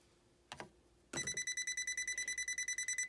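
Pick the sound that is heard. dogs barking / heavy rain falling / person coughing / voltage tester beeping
voltage tester beeping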